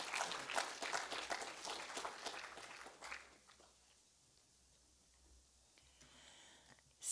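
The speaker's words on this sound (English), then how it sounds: "Please join me in giving big hand of applause to Ms." Audience applause after a speaker introduces a guest at an innovation and entrepreneurship event, steady and dense for about three seconds, then fading to a quiet room with scattered faint claps.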